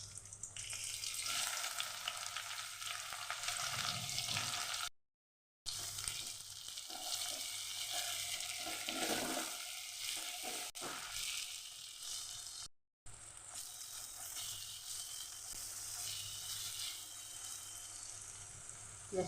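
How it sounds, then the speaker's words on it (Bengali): Onions with black cumin fry in mustard oil in a wok, giving a constant loud sizzle and hiss, briefly cut by two short gaps of silence, with occasional stirring scrapes and no voices. "পেঁয়াজটা ভাজা ভাজা হোক।"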